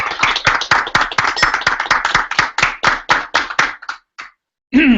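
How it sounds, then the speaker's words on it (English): Applause for student presenters at a session, a steady run of fairly sharp, rhythmic claps from a small group that thins out and stops, followed by a brief voice at the very end. "Let's give them a big applause."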